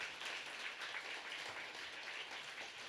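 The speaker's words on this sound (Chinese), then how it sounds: "我们再一次热烈掌声" Church congregation giving warm applause to welcome four visiting guests, a steady, dense wash of many hands clapping throughout, evenly sustained at moderate volume with no voices on top.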